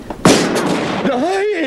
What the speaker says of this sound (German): Ich hab da einen Schuss gehört.